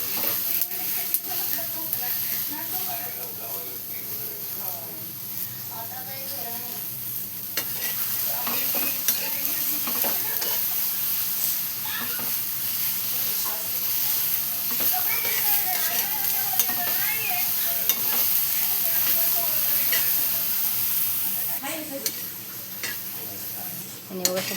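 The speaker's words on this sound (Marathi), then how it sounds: "आणि बघा ते वाटीभर वाटाणे घेतलेले आहेत आणि ते पण आपण मस्त भाजून घेऊया आपण" Green peas dry-roasting and being stirred in a pan, a steady soft sizzle and hiss with frequent scraping and clinks of a spoon against the metal throughout, close up, without speech.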